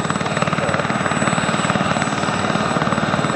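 Gazelle helicopter XZ934 starting up and lifting off at the RIAT air show at Fairford, its rotor thumping in a steady, rapid rhythm over a loud, close engine whine that holds throughout.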